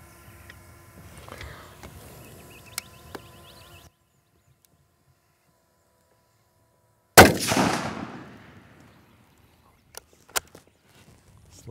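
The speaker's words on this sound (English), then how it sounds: "So we'll have a shot and see where we're at." A single loud, sharp rifle shot from a Sako 85 in .30-06 with a thermal scope, fired outdoors at a target about 80 metres away while zeroing. It cracks out of near silence, rolls away in a decaying echo, and is followed by a few faint clicks.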